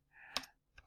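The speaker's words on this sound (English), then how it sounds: "I'm going to type a question" A few quick keystrokes on a computer keyboard, faint and close, with short clicks in a brief burst and no talking.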